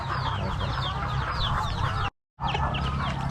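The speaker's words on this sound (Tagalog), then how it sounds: "papakain natin itong ating mga native at saka Rhode Island na mga manok" Native and Rhode Island Red chickens cluck and chatter continuously in a busy flock, fairly close, with a brief silent gap before the clucking resumes.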